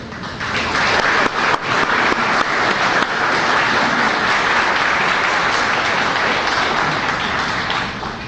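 An audience at an international metro conference for the Lima and Callao metro breaks into loud, sustained applause that swells within the first second and carries on steadily for several seconds before easing slightly at the end.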